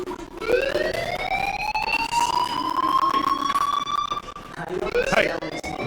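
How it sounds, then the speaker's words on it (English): A fire alarm in the Life is Strange video game wails as a loud, rising electronic tone held for several seconds, then starts climbing again near the end. "do you hear that fire alarm? That means you should be outside."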